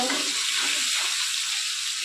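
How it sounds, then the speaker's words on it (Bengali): Cauliflower and potato pieces frying in a pan give a short, close, even sizzle with a broad hiss throughout and no voices. "ফুলকপি আলু ভাজাগুলো প্রায় হালকা বেশি হয়ে গেছে, লাল লাল হয়ে গেছে"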